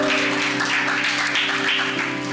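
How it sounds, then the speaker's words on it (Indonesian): Church congregation applauding during a Sunday worship service at GBI Crown Palace Grand Zuri, a steady wash of many hands clapping together, fairly loud and continuous, with a sustained musical tone underneath. "tepuk tangan yang meriah buat Allah kita"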